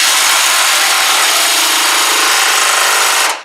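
A red impact wrench whirs continuously and loudly at close range on a rusted Chevy Chevelle under restoration, a steady power-tool buzz that cuts off abruptly at the end.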